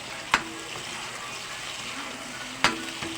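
Food sizzles and fries in a pan on a home stove, a steady soft crackle with two sharp clinks of a utensil against the pan.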